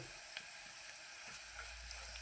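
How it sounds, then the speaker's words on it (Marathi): Cumin seeds hit hot oil with browned, reddened coconut for a dal tempering, giving a soft, steady sizzle with faint crackles. It is quiet and close, with no talking. "त्यामध्ये आता जिरं टाकून घेऊ"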